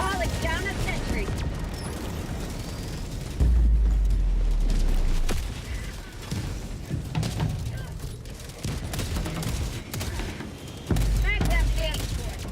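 A deployed sentry turret opens fire in a Helldivers-style shooter, bursts of rapid gunfire and heavy booms rolling over each other alongside game voice lines, loud and close with dense battle noise throughout.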